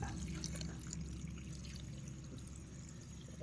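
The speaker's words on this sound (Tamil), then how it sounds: "நண்பர்கள்லாம் தண்ணி ஊற்றுறேன் பார்த்துக்குங்க" A quiet, steady stream of water pouring, with faint splashing and trickling that carries on evenly throughout.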